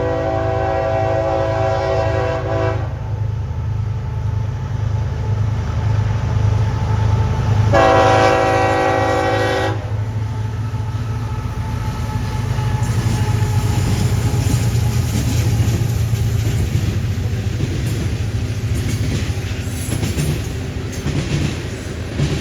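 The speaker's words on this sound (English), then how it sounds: "Keeping with the foreign power on Norfolk Southern ethanol trains, we see CSX 1973 leading 6K4 in Sandusky in September." CSX locomotive 1973 leads Norfolk Southern ethanol train 6K4 through Sandusky, sounding two loud horn blasts over the steady rumble of the engine and passing cars.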